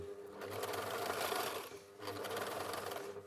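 A sewing machine stitches across a fabric seam with a steady, close mechanical whir, running in two continuous bursts split by a brief pause.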